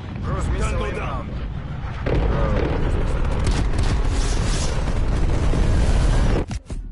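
A cruise missile strike in Call of Duty: a dense, booming explosion that swells after a couple of seconds and rumbles on loudly, with voices talking over the blast and a sharp cut near the end.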